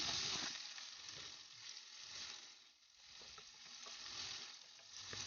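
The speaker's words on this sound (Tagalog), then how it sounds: "Kapag mainit na, lagyan natin ng ating sibuyas." Onions sautéing in hot oil in a pan for a mussel dish, giving a steady, dense sizzle and frying hiss close by that swells and dips slightly, with occasional stirring scrapes and no talk.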